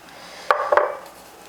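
Sauce for grilled lobster tails goes into a bowl with a couple of quick clinks and a soft scrape of utensil against dish, close by and brief in a quiet kitchen.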